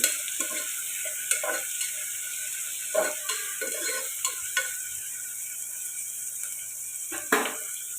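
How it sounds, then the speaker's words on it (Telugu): Chopped onions and green chillies frying in oil in a pan for a tripe curry, with a steady sizzle and scattered scraping clicks of a spoon stirring, no talk. "ఇది కలుపుకొని బాగా ఫ్రై చేసుకున్నామండి. ఉల్లిపాయలు బాగా ఫ్రై అవ్వాలి."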